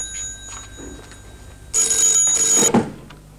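A telephone rings indoors with a bright, trilling electronic bell in two short bursts, loud and close, over a quiet room.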